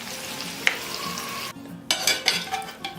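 Boiled lamb pieces frying in hot oil for Baku-style turşu qovurma, a loud crackling sizzle with sharp pops and stirring scrapes, briefly dipping before bursting louder again.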